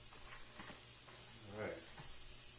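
Onions hit a hot pan for ham fried rice, setting off a soft, steady sizzle with faint stirring scrapes, quiet and close, with a voice briefly heard over it.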